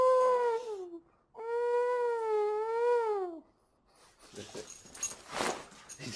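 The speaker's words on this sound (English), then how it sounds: "My dog goes nuts when I start acting silly." A dog whimpers in long, high, wavering whines, two sustained cries with a short break between, then barks and scuffles in a noisier burst at the end, close to the microphone.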